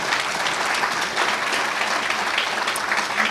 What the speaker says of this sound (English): I just want to applaud everybody who participated in the competition